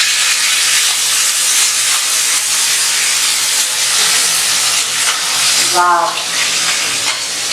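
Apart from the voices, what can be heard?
tomato puree sizzling in hot oil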